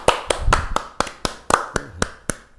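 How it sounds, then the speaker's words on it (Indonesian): Hands clap in a sparse, uneven rhythm of about a dozen sharp claps, close and fairly loud, as a small studio audience applauds a guest on an Indonesian talk show about the mysterious. "Tepuk tangan."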